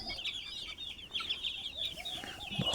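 Chicks and young roosters cluck and peep softly in a faint, continuous chorus of overlapping high calls, with no voices.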